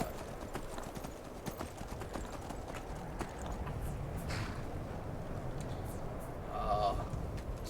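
Hooves clip-clop at a steady trotting rhythm as a horse is ridden in the Skyrim video game, an even patter that runs throughout beneath someone talking, with a brief whinny-like call near the end.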